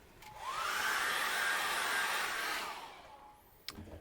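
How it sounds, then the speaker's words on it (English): A hair dryer whooshes on, blows steadily for a couple of seconds, then winds down, followed by a sharp click. "I'm going to dry that off with a hairdryer"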